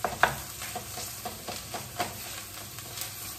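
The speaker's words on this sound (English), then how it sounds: "use the back of a spoon and smash it" Chorizo sizzles in a pan while the back of a spoon presses and stirs it, soft scraping taps recurring at an uneven rhythm over a steady close frying hiss.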